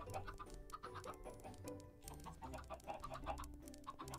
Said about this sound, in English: I just got a bunch of baby chickens.